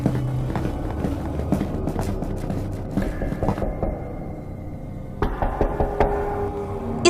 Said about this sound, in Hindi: उसे किसी के तेज तेज दौड़कर इस दिशा में आने की आवाज सुनाई दी